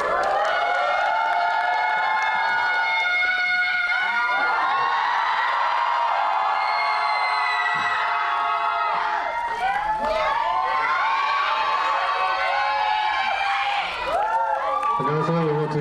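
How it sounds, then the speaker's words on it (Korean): Cinema audience at a film stage greeting in CGV Yongsan cheering, whooping and applauding continuously as the director and cast come on stage, a loud, dense crowd sound with excited shouts rising over steady clapping throughout. "큰 박수 부탁드립니다."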